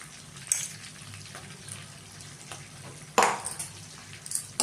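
Roasted spice powder tipped into a pan of frying green chillies for Andhra pachhi mirapa aavakaya, with a soft steady sizzle broken by a few stirring scrapes and one louder burst of frying noise near the end.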